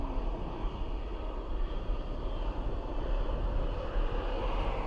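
A KLM aircraft taking off at Dublin Airport, heard as a continuous heavy engine roar with a deep low rumble, steady and fairly distant, with no talk.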